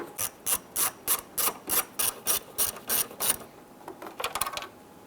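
A ratchet wrench loosening 7mm screws on the corner light panel of a 1995-2001 Ford Explorer: about a dozen evenly spaced clicking strokes, close and crisp, then a short pause and a quicker flurry of clicks.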